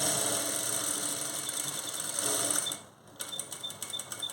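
A sewing machine stitches a blouse at a half-inch margin, running as a steady close mechanical whir that stops briefly near the end and then restarts in short bursts, with no voices.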